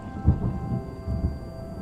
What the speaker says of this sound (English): Is that a thunderstorm?